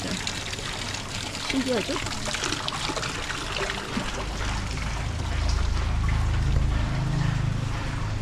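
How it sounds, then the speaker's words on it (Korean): A steady, gentle trickle of running water flows nearby in a forest-style indoor water feature while a voice speaks briefly over it. "물도 졸졸졸졸 흐르는 그런 형태로 되어 있습니다."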